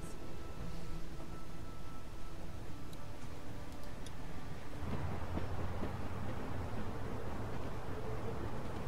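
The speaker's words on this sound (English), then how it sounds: "We need to stop this train." A moving train in The Walking Dead video game rumbles steadily, with faint rhythmic clicking over a dense, continuous roar and no talking.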